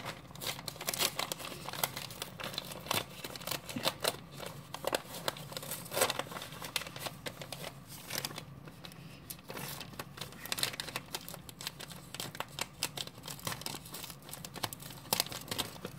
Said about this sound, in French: t'as du scotch qui colle bien